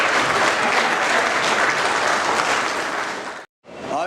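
Sustained applause from an audience welcoming the Vice Chancellor of North South University at an HR club grand finale event, loud and dense for over three seconds before breaking off, then briefly resuming.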